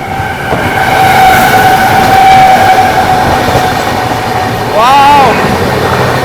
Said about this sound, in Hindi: ओहो तगड़ा पैरेलल होने वाला है लग रहा है, और कहीं ओवरटेक ही ना मार दे ये अपनी ट्रेन को भाई साहब